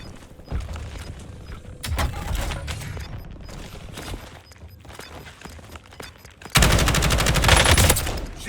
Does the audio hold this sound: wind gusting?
no